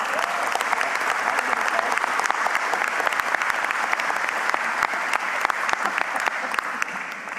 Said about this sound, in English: Please give these folks a serious round of applause.